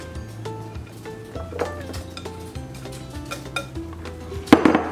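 Marinated cabbage being mixed with vegetables in a metal pot or bowl, clinking and scraping of utensils against the dish, with a sharper clatter near the end.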